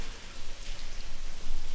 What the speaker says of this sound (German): es regnet hier und ich fliege auch durch den Regen